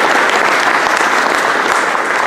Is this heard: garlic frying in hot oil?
no